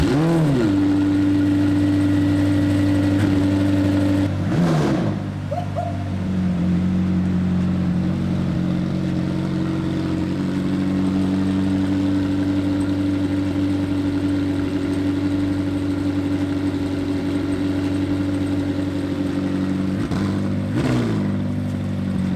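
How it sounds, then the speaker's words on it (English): A McLaren 720S bought from auction cranks and fires up, then settles into a steady, loud mid-pitched idle with a couple of brief revs, close by in a workshop. "The car started up with no problems at all."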